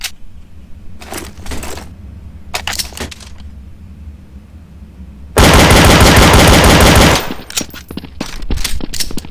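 Gunfire in Counter-Strike: Source, with a few sharp separate shots and then a long loud rapid automatic burst, followed by more scattered shots and clicks.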